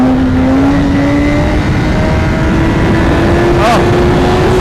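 A 2016 BMW S1000RR motorcycle engine holds a steady high drone through a wheelie at the balance point, loud and close with strong wind noise and a short vocal outburst near the end.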